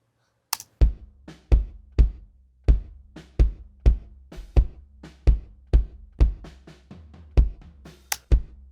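An unprocessed acoustic bass drum, recorded with inside, outside and sub microphones, thumps about fifteen times in a steady rhythm, each hit sharp and close with a short decay, and no other instruments play.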